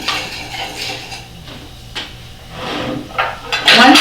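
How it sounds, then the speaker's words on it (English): Metal whisk clinking and scraping against a bowl while ground black pepper and seasonings are mixed, with a run of irregular light taps that grow louder and busier toward the end. "And we're going to whisk all of that together."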